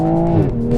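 A Toyota Supra engine sounds loud and close while driving, a brief, throaty tone whose pitch shifts within under a second.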